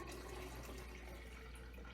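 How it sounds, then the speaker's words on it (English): Water pours into a tank during a gauge demonstration, a faint steady rushing trickle with a low hum underneath, no voices. "Now, we'll add a bit more water"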